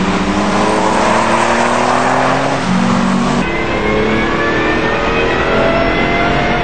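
A Puma GTO race car with a noisy differential, running during a Super Taikyu endurance race, holds a loud continuous engine drone close by, its pitch shifting mid-clip as gears change, with no voices.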